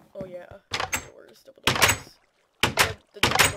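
Double doors in a video game open and close in several heavy wooden thuds and slams, sharp and close, spaced with short pauses while a person talks.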